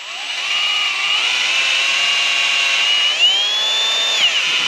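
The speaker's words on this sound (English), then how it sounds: "Drill in 2 inches into the tree." Cordless power drill boring a tap hole into a tree trunk for sap in Wisconsin, a steady high-pitched whine that holds, then shifts upward in pitch as it bites into the wood, fairly loud and close, with no talk.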